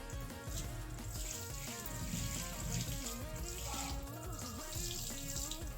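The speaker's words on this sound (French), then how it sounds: "on va venir renverser de l'eau" Water poured onto cassava during preparation, a steady splashing and running flow with trickling, heard close and continuous throughout.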